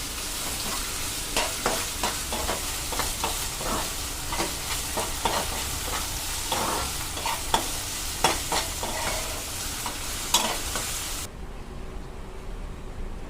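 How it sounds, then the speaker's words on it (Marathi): Sausages and egg fried rice sizzle steadily as they are sautéed in a pan. A constant hiss is broken by repeated scraping stirs from a spatula, and the sizzle drops away suddenly at the end. "सॉसेज आहेत हे टाकायचे आहे त्याच्यात. हे आपण परतून घेऊ."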